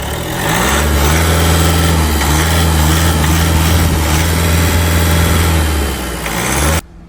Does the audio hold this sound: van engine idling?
yes